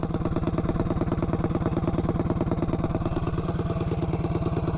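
A minibike engine with a three-foot-long intake manifold idles close by, with a fast, even, loping chug and a clattery, buzzing tone that holds steady throughout.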